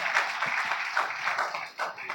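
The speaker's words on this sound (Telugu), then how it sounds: "మళ్ళా కొట్టండి గట్టిగా." A church congregation claps during an Easter Sunday worship service, producing a dense, steady patter of many hands at moderate volume that fades slightly near the end.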